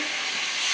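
Mixed vegetables frying in a hot pan for a Bengali navaratna curry, a steady broadband sizzle with faint stirring, close and continuous with no voices.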